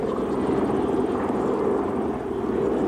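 An aerobatic plane from a precision team flies at the 1988 Wings of Eagles air show, its engine a steady, loud, droning roar that holds constant without voices.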